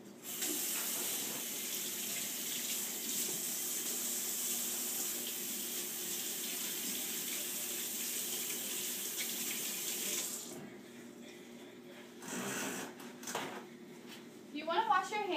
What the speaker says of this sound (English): The first step to making French toast is washing your hands.